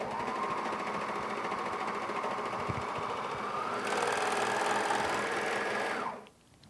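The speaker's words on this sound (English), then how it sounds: "okay, we'll just go ahead and stitch" A Bernina 800DL serger stitching fabric at a short stitch length, a steady close mechanical whir running for about six seconds, rising slightly partway, then winding down and stopping.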